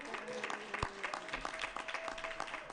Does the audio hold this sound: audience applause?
yes